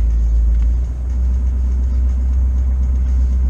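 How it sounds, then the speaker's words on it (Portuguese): A car engine rumbles low and steady at close range as the vehicle is moved into a sheltered spot during a snowstorm in Marietta, with no voices over the continuous drone. "Enfiar o carro no lugar mais seguro."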